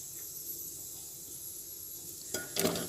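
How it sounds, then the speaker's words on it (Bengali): Cut potatoes fry in mustard oil in a pan for ghugni, giving a faint, steady sizzle. A couple of sharper clatters of a utensil near the end. "আলুগুলো সর্ষের তেলটার মধ্যে দিয়ে দিলাম আলুগুলো প্রথমেই ভেজে নিচ্ছি"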